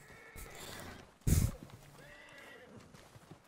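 A horse in Red Dead Redemption 2 gives a loud, close snort or whinny in the middle, with hoof clops and faint game ambience before and after.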